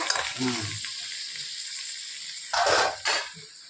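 Mixed vegetables for sambar fry in a pan with a close, crackling sizzle, broken by two loud bursts of hissing and clattering stirring toward the end.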